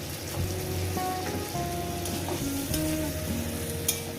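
Small river fish and vegetables sauté in a pan for a chorchori, with a continuous close sizzle and repeated scraping, clattering stirring strokes throughout.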